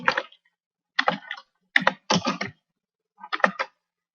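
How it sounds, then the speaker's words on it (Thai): Computer keyboard typing for text in Photoshop CS5: short bursts of close, crisp key clicks separated by brief silent pauses, with no voices. "พิมพ์ ตัวหนังสือ ที่ต้องการ ไป เลย"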